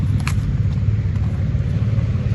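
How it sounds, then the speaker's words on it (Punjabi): Heavy engine rumble of tractors rolling past close by on a road, a continuous low drone with no pauses. "ਟਰੈਕਟਰ ਜਾ ਰਹੇ ਹੂੰ ਅਨੰਦਪੁਰ ਸਾਹਿਬ ਨੂੰ"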